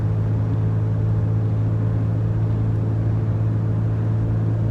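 A 2004 Nissan Xterra 4X4 cruising steadily at about 50–55 mph, giving a continuous low engine and road drone with an even hum and no speech.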